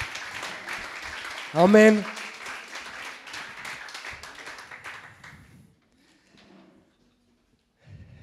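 A church congregation at an Easter service claps in thanks for the worship team. The applause is steady and moderate over the first five seconds; a single voice calls out briefly during it, and the clapping then dies away to near silence.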